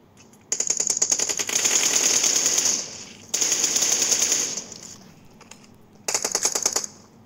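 Rapid automatic gunfire from the video game PUBG rattles in three loud sustained bursts of fast repeating shots, separated by brief pauses, with no talking over it.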